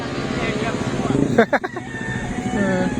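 A loud motorcycle engine on a tree-lined mountain road, roaring nearby under steady conversation, with a sharp rise in revving in the middle before settling back to a running drone.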